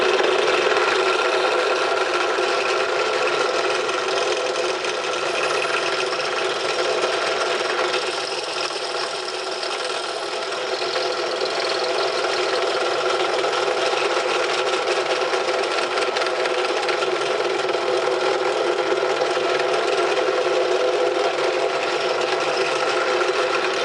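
A 4 mm drill bit boring out a pin hole in a Lister D engine governor shaft, making a steady, loud whirring grind that holds with little change throughout.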